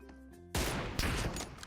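Gunfire in PUBG Mobile arrives as a sudden loud burst of rapid shots after a brief quiet, quick tonal lead-in, then keeps going with dense overlapping reports and a second sharp burst near the end.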